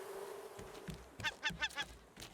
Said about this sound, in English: Oh, I hear a bird.